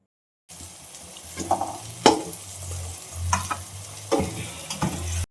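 Potato filling for dabeli being stirred and mixed, with several distinct scraping strokes of a spoon against the pan over a low background hum, no voices.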